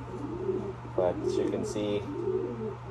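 Ornate pedigree pigeons coo close by in soft, rhythmic repeated calls, with someone talking over them and a steady low hum underneath.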